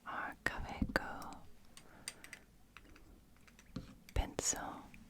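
A Caveco pencil writing during a whispered Latin ASMR session, with scratchy strokes and soft taps scattered in bursts under close, breathy whispering.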